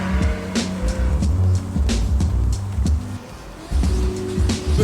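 A drift car with boost on full, its handbrake pulled through the first clipping point, roars loud and close, the engine revving up and down in surges with tire squeal mixed in.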